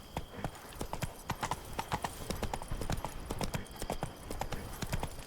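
Roach, the horse in The Witcher video game, gallops in a brisk, continuous clip-clop of hooves, fairly close and rhythmic, with no voices over it.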